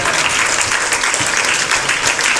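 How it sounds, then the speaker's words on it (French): A congregation at a Sunday church service breaks into loud, dense applause, a close and continuous roar of hands clapping with no pauses. "Est-ce qu'on peut applaudir Dieu?"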